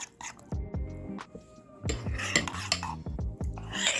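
A spoon stirs overnight oats with chia seeds and almonds in a dish, giving a string of close, bright clinks and scrapes against the bowl in an irregular rhythm.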